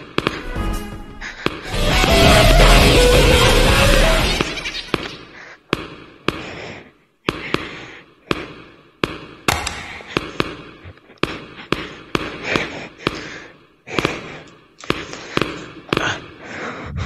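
Gunfire in the video game Lethal Company: a sustained roaring blast, then a long series of loud, sharp, irregularly spaced shots close by, with no talking.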